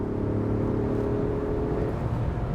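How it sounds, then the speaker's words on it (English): A 2021 Ford F-150 King Ranch V6 in sport mode, idling or held at steady revs with a smooth, continuous engine hum heard up close and on its own. "It actually sounds pretty good for a V6."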